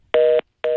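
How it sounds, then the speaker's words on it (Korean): Electronic beeps on a telephone line that dropped during a phone interview: two loud, clean tones, each about a quarter second long, separated by a short gap of silence. "전화 인터뷰 도중에 전화가 끊겼습니다. 갑자기 삐삐 소리가 나는데"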